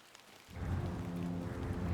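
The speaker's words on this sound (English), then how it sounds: "Getting rained on." Rain falling in the video game The Excavation of Hob's Barrow, starting suddenly as a steady, full wash of rainfall with a low rumble underneath, with no talking over it.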